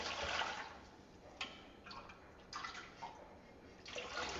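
Homemade broth or stock is strained in a kitchen, giving soft bursts of pouring and trickling liquid that come and go in short uneven splashes, faint and close with no talking.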